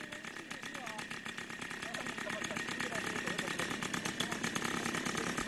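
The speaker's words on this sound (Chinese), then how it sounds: "发动机的轰鸣和螺旋翼卷起的尘土" A helicopter engine rumbles steadily while the rotor adds a fast, regular pulsing that grows slightly louder, with a voice talking over it.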